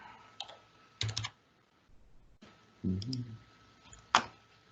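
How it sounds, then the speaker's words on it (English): A computer mouse button clicking at a desk, with several sharp close clicks in short clusters and one louder final click in a quiet room. "You click that button right there"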